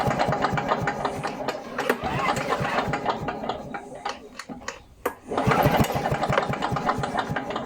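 Starter cord pulled on a Victa V35 Commando 2-stroke lawnmower under repair with no spark, a repeated rapid chugging rattle of the engine turning over, briefly pausing midway then resuming, close and fairly loud.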